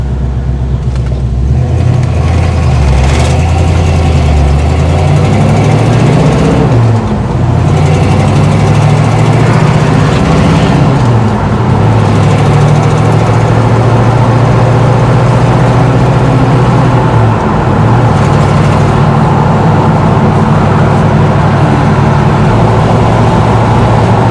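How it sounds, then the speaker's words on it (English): A 1977 Pontiac Trans Am's carbureted, unmodified engine idles steadily and loudly, with a low rumbling drone and slight wavering in pitch throughout. "Engine runs just perfectly."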